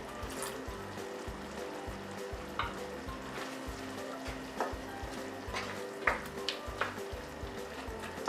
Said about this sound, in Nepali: अब यसलाई यतिकै खुलै राखेर 2 मिनेट जति म पकाउने छु